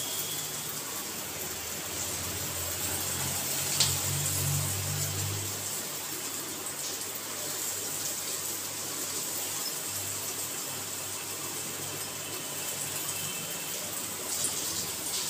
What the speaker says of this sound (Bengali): মা এগুলোকে ফুলুরির আকারে ভেজে নিচ্ছে